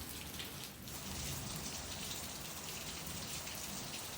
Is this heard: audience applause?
no